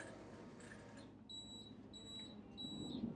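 A Chief Steamer 155 steam cleaner (240 volt) sounds its low water tank alarm during a car wash, three short high-pitched beeps repeating at an even pace over a steady hiss of background noise.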